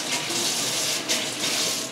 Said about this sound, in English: I'm going to rinse my hands really quick